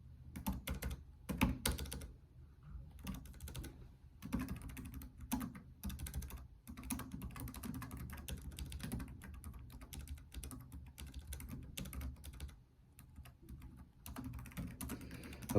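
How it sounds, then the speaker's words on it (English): Steady typing on a computer keyboard, a continuous stream of quick key clicks with brief pauses, fairly close and moderately loud. "I'm going to be typing away as you tell me"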